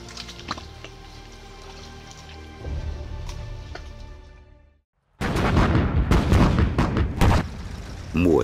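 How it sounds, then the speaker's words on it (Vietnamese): Battlefield gunfire and artillery from the spring 1975 Ho Chi Minh campaign: a quieter rumbling passage drops to a brief silence, then loud, dense volleys of shots and blasts burst out in rapid succession. "tiếng súng đồng loạt vang lên khắp các chiến trường"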